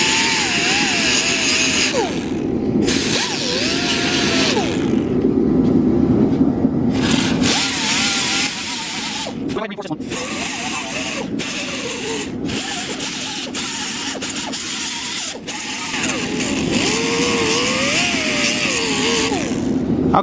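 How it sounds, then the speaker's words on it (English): An angle grinder grinds down the surface of a 2001 Cobra car bumper, a loud continuous whine in several long passes broken by brief pauses, with light talk underneath. "I'm gonna take the grinder and grind down where I want the panel bonding to stick."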